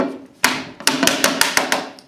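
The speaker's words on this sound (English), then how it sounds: "Just simply put them in with a small mallet or a paddle or a hammer." A small mallet tapping parting beads back into a vinyl window sash: about eight sharp, close knocks, uneven at first and then in a fairly steady rhythm.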